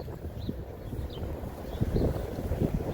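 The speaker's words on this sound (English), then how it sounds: "Uh-oh, it's getting windy." Wind buffeting a microphone outdoors while walking, a steady low rumble with gusts that swell louder toward the end, no talking.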